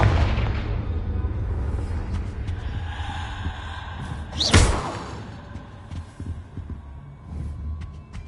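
Confringo fire spell blast going off in Hogwarts Legacy on PS5, a single sharp burst with a swelling whoosh and rumble partway through, over a steady low ambient drone of game music and hum.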